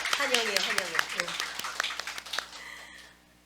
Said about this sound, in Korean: 우리요 환영하는 박수 한번 쳐요